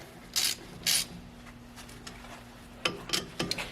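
A lathe chuck is cranked tight on a part in a garage shop: two short rasping bursts, a pause, then a quick cluster of ratcheting clicks and scrapes, fairly quiet and close, with no talking.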